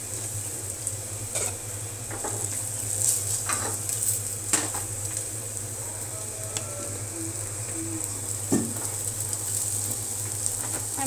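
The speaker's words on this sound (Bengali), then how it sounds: "এই তো দেখেন আমার পেঁয়াজ বেরেস্তা হয়ে গেছে" Sliced onions frying in a pan until crisp and browned for a parwal fry dish, a steady close sizzle running throughout with occasional utensil taps and scrapes.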